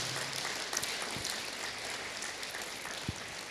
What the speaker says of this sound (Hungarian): egy tapsot azért ne sporoljunk meg az ő 100 éves születésnapján